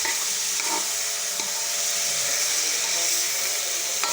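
Garlic, onion and tomato sautéing in a pan, a steady close hiss and sizzle with occasional scraping stir sounds, continuous throughout with no talking.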